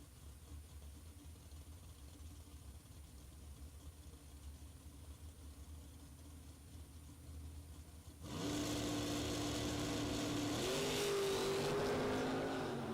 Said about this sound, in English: Whacking the throttle down there for the win in the left lane.